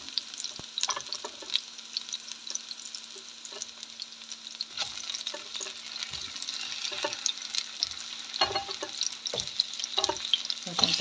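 Chicken wings fry in a pan for chicken mechado, giving a steady, fairly quiet sizzle with scattered crackles and some stirring clatter throughout.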